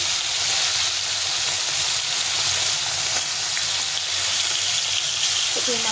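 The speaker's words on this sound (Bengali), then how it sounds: "এখন মাছটাকে ছেড়ে দেবো। প্রথমে এই মাছগুলোকে ভেজে নেবো।" Rohu fish pieces frying in hot oil, a loud, dense, continuous hiss and sizzle with occasional faint pops, steady from start to end.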